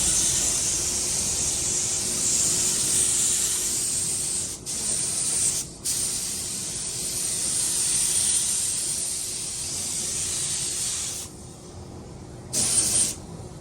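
Spray gun laying clear coat onto a primed 2022 Ford Maverick, a loud, continuous airy hiss with brief cut-offs as the trigger is released, then resuming in short bursts near the end.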